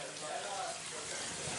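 Continuous rushing water as a pump drains a flooded compartment aboard the USS The Sullivans at Buffalo Naval Park, a steady broadband wash with faint voices underneath.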